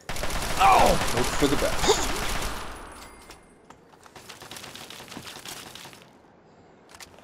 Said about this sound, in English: Let's just pump some rounds into them then.